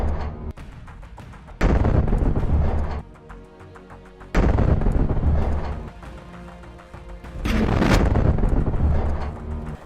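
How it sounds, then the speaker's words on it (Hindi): A Merkava tank is blown up by a remotely triggered blast in Gaza, heard as several loud, sudden booming bursts, each sustained for a second or two with rumbling debris noise between, captured outdoors with wind buffeting the microphone. "इसके बाद एक मेरकावा टैंक को धमाके के साथ उड़ा दिया जाता है।"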